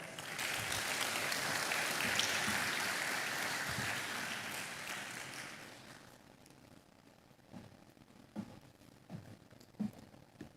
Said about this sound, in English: may we warmly welcome the Vice Chancellor, Professor Ernesto Okonedo, with a round of applause